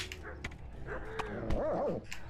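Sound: dogs barking in Kingdom Come Deliverance video game

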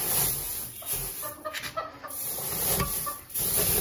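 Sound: Aseel hen clucking

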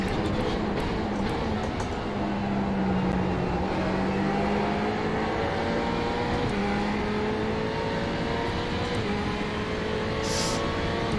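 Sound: Ferrari GT3 race car engines in the racing game iRacing

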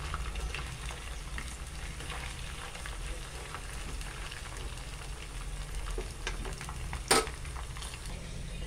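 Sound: frying food in a pan

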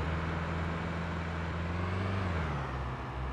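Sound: car engine driving in the video game SCUM

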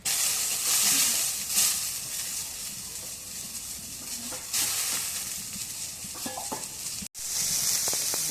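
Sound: onions frying in a pan

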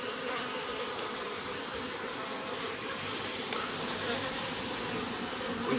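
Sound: honeybees buzzing in a hive, including drones

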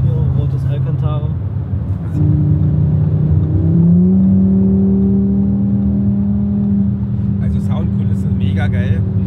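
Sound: Audi RS 3 Sportback exhaust revving

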